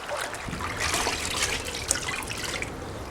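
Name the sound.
dirt bike air filter rinsed in a bucket of cold water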